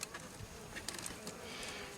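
Honey bees buzz continuously in an open hive, a dense close-up drone with no voices over it.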